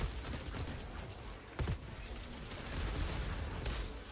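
Video-game gunfire crackles in rapid bursts and scattered shots, with a sharper boom near the middle, all set against a dense, noisy battle backdrop at fairly low level.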